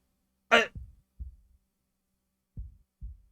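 Low, muffled thumps in the visual novel Tsukihime form a heartbeat effect, two soft double-beat pairs separated by a pause, preceded by a brief breathy sound.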